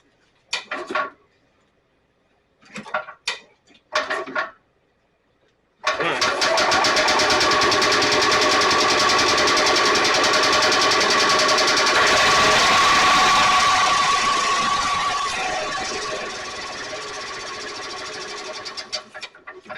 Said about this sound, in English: old Skidoo Rotax engine. That's what it sounds like. It's 2-cycle.